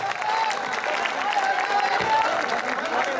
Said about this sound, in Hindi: तो एक बार तालियों से डॉक्टर राम अकेला जी।